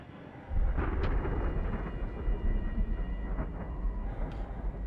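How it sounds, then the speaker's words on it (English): Low thunderstorm rumble echoing through the abyss in the horror video game Soma, a loud continuous roll with sharper cracks near the start, heard alone without talk. "Why does it sound like there is a thunderstorm in the abyss?"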